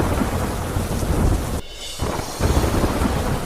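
Heavy rain pours down in a thunderstorm over Agartala, Tripura, a dense loud roar of downpour with rumbling thunder and a brief dip in the middle before the steady wash returns.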